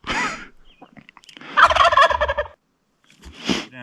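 A wild turkey tom, a healthy adult but not an old long-beard, gobbles in bursts: a loud rattling call, a longer strong gobble in the middle, then a shorter one after a pause, close by and with no talk.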